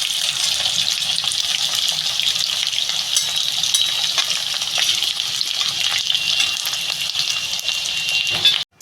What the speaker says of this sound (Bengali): আলুটা ভেজে নিচ্ছি